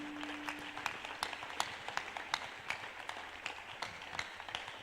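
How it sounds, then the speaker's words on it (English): A church congregation claps hands together at a steady, rhythmic pace, the crisp claps repeating evenly throughout at moderate loudness. "Clap your hands for your freedom."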